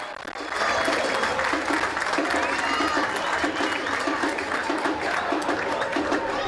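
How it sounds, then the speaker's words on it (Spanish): Fans in the stands at an amateur football match between Guaraní A. Franco and Comunicaciones give sustained applause as players head to the dressing room, broad steady clapping with crowd murmur beneath. "aplausos enfervorizados, son realmente como un reconocimiento total y absoluto para estos jugadores"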